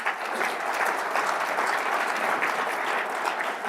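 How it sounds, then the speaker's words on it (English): Steady audience applause fills a convention hall, even and sustained throughout with no voices rising above it. "Give him a round of applause."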